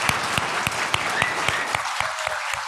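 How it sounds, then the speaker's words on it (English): A church congregation applauds at the close of a service, with steady crowd clapping mixed with a few sharp, rhythmic, evenly spaced claps standing out near the listener. "Let us go with one more round of applause for Aaron Cole Baker, for Kim, and for Paula"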